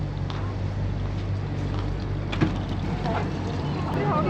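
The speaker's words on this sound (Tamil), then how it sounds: "இது பாருங்கள், துபாய் ஃபெரி." Dubai Creek ferry boat moving on the water, a steady, loud engine drone and rushing water noise throughout, with wind over the microphone and no talking.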